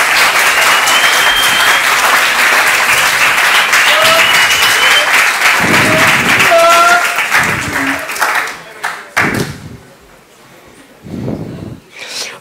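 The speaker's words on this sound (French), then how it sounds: "Je vous demande de l'applaudir" Audience applause at a running conference, dense clapping for about eight seconds that thins out into scattered claps and rustling near the end.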